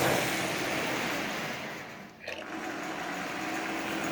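A Marx 400 double reduction toy train motor built from parts and mounted with wire ties runs close up with a steady, buzzing whir, dipping briefly midway before resuming at an even pitch.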